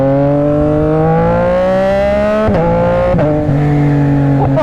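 Yamaha MT-09 SP motorcycle exhaust, loud and close, its tone rising steadily under acceleration and then breaking into quick upshifts with short pops between gears.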